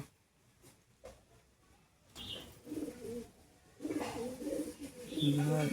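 Pigeons cooing nearby in a pet pigeon collection, soft low throaty coos rising in the second half, with a person talking quietly in the background.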